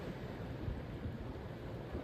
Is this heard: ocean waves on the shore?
yes